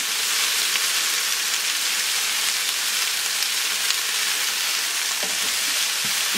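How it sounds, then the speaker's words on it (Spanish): Chicken breast with vegetables sautés over medium-low heat in a pan, giving a dense, even sizzle that stays loud and constant throughout, with a few faint stirring scrapes near the end. "Y a fuego medio bajo lo voy a dejar aquí a sofreír un rato."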